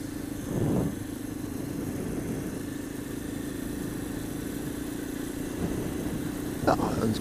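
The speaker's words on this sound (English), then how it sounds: "If you haven't got a little 250 utility bike, get one, because by God they are good fun" Small 250cc utility motorbike engine droning steadily while riding along a nice stretch of road, a low constant hum with faint wind noise and a couple of brief knocks.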